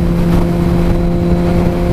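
Suzuki GSX-R1000R motorcycle with aftermarket cruise control, engine droning loud and steady with a strong tonal hum and wind rush under riding, as it pulls up to speed on the road.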